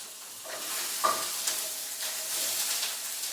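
Lamb browning in a frying pan, a continuous bright sizzle with occasional stirring scrapes and a sharper clink near the start, close and fairly loud with no talk.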